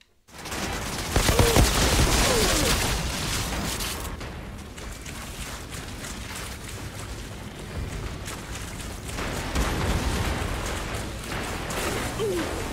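Sustained gunfire bursts in the video game Outriders, loud and continuous across the whole stretch, mixed with mechanical game effects and swelling again toward the end.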